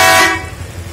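Big aftermarket horn fitted to a Kymco Xciting 400 scooter gives one short, loud blast that cuts off quickly and leaves a faint engine idle underneath.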